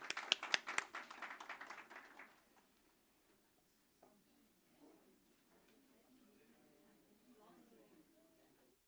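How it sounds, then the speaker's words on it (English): Conference attendees give a brief round of clapping that fades out within a couple of seconds, followed by quiet room murmur and faint movement. "A round of applause for everyone."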